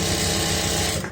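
A sewing machine runs continuously at high speed, stitching layered pants, a loud steady whirring drone that cuts off abruptly at the end.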